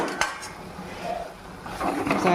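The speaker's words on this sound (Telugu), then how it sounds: "మర గెరటి పెట్టి తిప్పుకుంటున్నాండి" A ladle scrapes and clinks around a pot of bottle gourd stew (sorakaya pulusu), giving a few sharp metallic taps near the start and a busier patch of scraping at the end, set against a soft background hiss.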